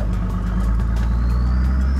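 A 4WD engine pulls out of soft sand during a beach recovery on Moreton Island, a loud, close, low throbbing drone with a steady rhythmic pulse and no talk.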